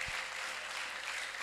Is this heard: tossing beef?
no